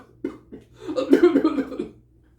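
A man's cough, a few short hacking bursts followed by a longer rough fit of coughing, close and clear with no talk around it.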